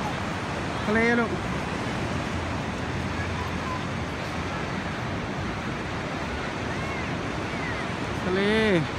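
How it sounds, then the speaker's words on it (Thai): Ocean surf at Pismo Beach, a steady broadband wash of waves and wind with children's voices calling out briefly at the start and end. "ทะเลลูก"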